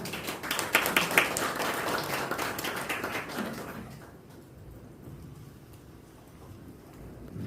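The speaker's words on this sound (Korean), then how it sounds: "큰 박수 부탁드리겠습니다" A live audience at a Korean rescue organization's system presentation event claps as a former foundation chairman is welcomed to the stage; dense, lively clapping for about four seconds, then quickly dying away into quiet room tone.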